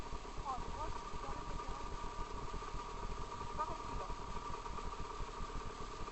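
A motorcycle engine idling with a steady low rumble and faint clatter throughout, moderately quiet, while someone talks over it.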